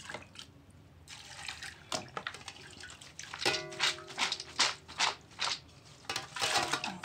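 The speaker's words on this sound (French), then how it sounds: "On verse les grains dans l'eau parce que je vois que c'est pas bien propre les grains" Baobab seeds being poured into water and washed by hand, with intermittent close splashes and sloshing that grow busier and louder in the second half, no talking.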